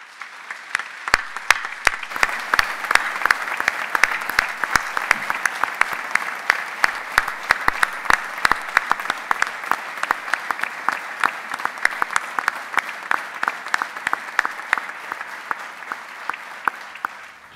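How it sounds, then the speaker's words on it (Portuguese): An audience claps throughout a municipal council swearing-in ceremony in Lousada, a dense, steady round of applause that holds its strength for the whole stretch. "Um aplauso, por favor."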